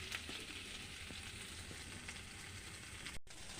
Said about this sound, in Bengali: এতে যে কুমড়ো, ঢ্যাঁড়স, চিংড়ি মাছ এগুলো সব একসঙ্গে দিয়ে দিলাম কড়াইয়ে।